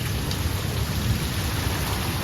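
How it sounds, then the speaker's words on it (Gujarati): Rain pours outdoors during a storm with strong wind, a dense steady hiss of falling water with low rumbling beneath, no voices. "ભલે વરસાદ આવે હે બહાર તો"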